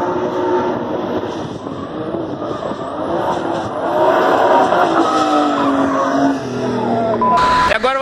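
Cars circulating at a drift event in Brazil, with continuous loud engine noise and tire sounds throughout, some passes building louder, and faint voices underneath.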